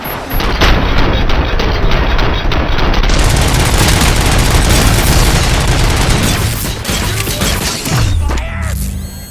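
Gunfire in RoboCop: Rogue City, a loud, dense barrage of rapid shots and booming impacts that runs almost without pause before breaking off near the end.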